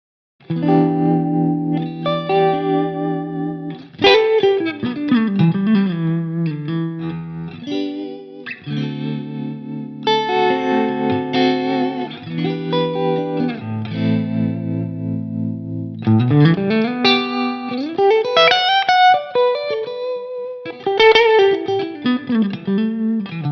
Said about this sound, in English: even a subtle tremolo on a little bit of lead is really nice